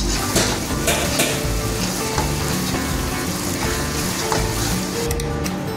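Chopped onion with a pinch of salt fries in a pan for stuffed brinjal, a dense, loud, continuous sizzle close by with occasional utensil clinks and no talking.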